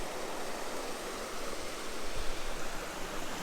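A small waterfall shooting down at Crevice Falls, heard as a steady broadband rush of falling water, moderately loud and unbroken, with no voices.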